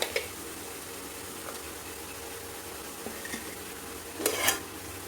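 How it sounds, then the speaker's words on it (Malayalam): Clams seasoned with chilli and turmeric powder sizzle softly in a pan for a kakka fry, with a faint steady hiss broken by a brief scrape at the start and a louder clattering stir near the end. "ആവശ്യത്തിന് ഉപ്പ് നന്നായിട്ടൊന്ന് ഇളക്കി കൊടുക്കുക"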